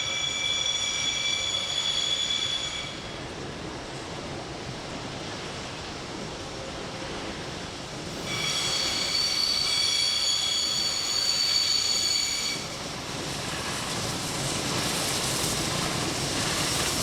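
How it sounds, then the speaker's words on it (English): A freight train rumbles past slowly and steadily, with high metallic wheel squeals rising and fading over the long, continuous roll of the cars. "the train came by, limping along."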